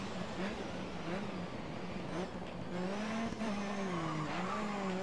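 Race car in the GRID Autosport racing game: a continuous engine drone rising and falling through gear changes, with tires squealing through corners, heard close and steady without talk.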